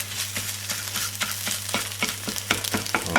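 Scrambled eggs fry in butter while a spatula stirs them, a steady sizzle broken by regular soft scraping strokes against the pan, close and continuous with no talk.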